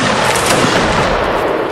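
A loud, dense musket volley crackles out from a line of infantry in a Napoleonic Wars line battle in Mount & Blade, close by, with many shots merging into one sustained burst.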